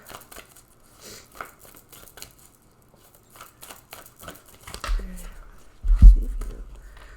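Several quick papery riffles and soft card-slapping sounds as tarot cards are shuffled close by, ending with a couple of louder thumps as the deck is squared.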